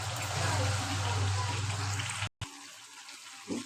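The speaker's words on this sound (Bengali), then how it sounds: "গরম জল অ্যাড করে দিচ্ছি।" Hot water being poured into a pan of homemade mutton curry, a steady broadband rush that runs for about two seconds, then a brief cut, then quieter bubbling.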